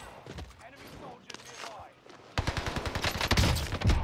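Rapid gunfire bursts from Call of Duty Warzone Pacific on Rebirth Island, loud and close, starting abruptly after a stretch of someone talking and continuing in quick repeated shots.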